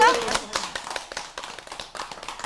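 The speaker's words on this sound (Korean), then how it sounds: "다 좋으시니까 박수 치신 거죠?" Elderly residents at a senior centre in an apartment complex clap in a brief, uneven round of sharp handclaps close by, with voices talking over the clapping.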